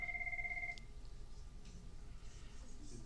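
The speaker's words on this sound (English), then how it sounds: "while I go get the phone" A telephone rings in a classroom with a steady electronic tone in a short burst, then stops, leaving quiet room noise with faint background murmur.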